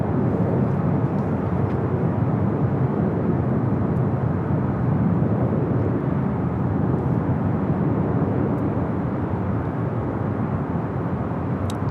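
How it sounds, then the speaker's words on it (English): Jet aircraft engines roaring at LAX, Los Angeles International Airport, a loud, steady, broadband rumble that stays constant throughout with no voices. "This is LAX, Los Angeles International Airport, where the jet engines roar."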